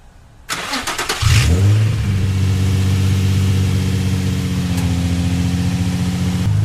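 Nissan 350Z engine cranking and catching after a starter whir, then settling into a loud, steady raised-idle hum held near the microphone, with no one speaking.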